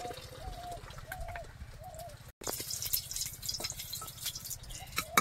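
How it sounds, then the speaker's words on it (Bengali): A dove calls from a distance in soft, repeated cooing phrases, with faint dripping and light background noise around it. "ঘুঘুর ডাক শুনতে পেলে?"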